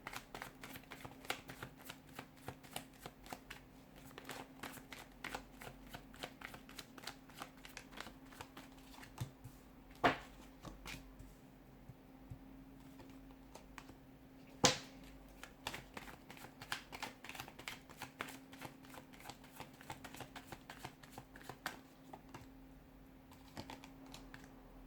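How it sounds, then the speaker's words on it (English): Tarot cards are shuffled close by in a quiet room, a run of soft, rapid riffles and taps punctuated by a couple of sharper snaps. "we'll give the cards a shuffle"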